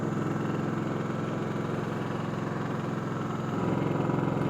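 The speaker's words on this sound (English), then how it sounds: "Let me put it back to run. Oh, there we go. I didn't need to choke it." A Champion dual fuel 4500 watt inverter generator running on propane idles steadily nearby, a continuous mid-pitched engine drone with a slight rise in load near the end, no voices.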